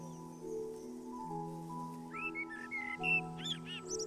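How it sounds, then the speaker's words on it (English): A blackbird sings from a cypress tree at the bottom of a garden, a few bright whistled phrases over a low steady tonal hum, fairly faint. "I could hear a blackbird singing quite closely."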